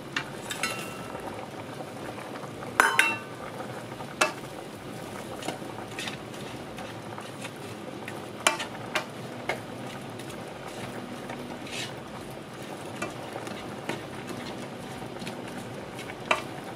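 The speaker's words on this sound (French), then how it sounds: "on va les laisser tranquillement continuer à chauffer, vraiment à feu doux, en remuer souvent" Pasta with pointed cabbage, mushrooms, meatballs and Siciliano sauce simmering gently in a pan on low heat, a continuous soft bubbling hiss broken by scattered scraping and clinking as it is stirred, with no talking.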